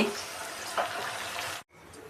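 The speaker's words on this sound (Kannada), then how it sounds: "ಎರಡೂವರೆ ಗ್ಲಾಸ್ ನೀರು ಹಾಕ್ತೀನಿ." Two and a half glasses of water poured into a hot pan for avarekalu uppittu, a close rushing hiss that runs steadily, then stops abruptly before a quieter tail.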